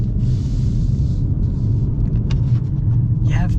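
A 2025 Ford Maverick Hybrid AWD pickup accelerates from inside the cabin, a steady, loud low rumble of engine and road noise that holds evenly throughout with faint hiss above.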